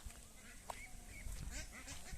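Ducks of several breeds, white and black, on a large duck farm quack in faint, scattered bursts over a steady background hum, with a few brief calls overlapping.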